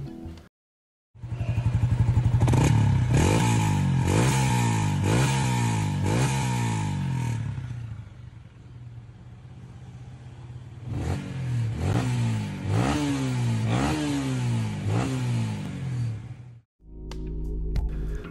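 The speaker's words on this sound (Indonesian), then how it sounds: "knalpot dari Umar Racing juga dikenal memiliki suara khas yang sporty dan" A motorcycle fitted with a UMA Racing aftermarket exhaust revs loudly in repeated sharp bursts, a pause, then another series of throttle blips that rise and fall, close and alone.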